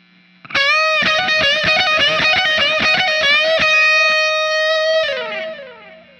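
A distorted electric guitar plays a quick, short lick of rapid notes, ending on a sustained bending note that rings and fades.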